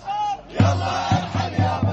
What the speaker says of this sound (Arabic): هتاف شخص مغربي متضامن معنا للثورة السورية ضد بشار الأسد